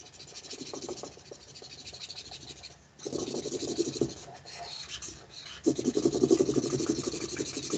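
Marker scratching across paper while a cartoon dog and doghouse are drawn, a soft continuous scribbling texture in short bursts with brief pauses, growing louder and denser toward the end.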